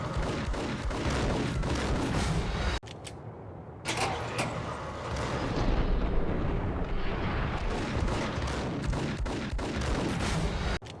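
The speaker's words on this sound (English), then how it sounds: "that guy has a hella powerful gun" Heavy gunfire from a powerful gun in the video game Max Payne, a loud, dense barrage of blasts and booms with a brief lull partway through, no talking.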